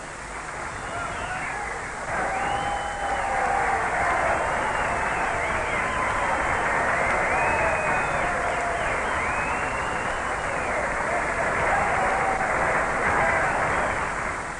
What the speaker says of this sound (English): The cheers and applause from the crowd